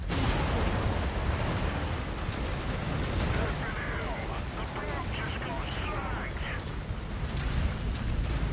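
Buildings blowing apart in the mech game MechWarrior 5 make a long, dense, roaring rumble of explosions. The roar stays loud and steady throughout, and voices speak over it.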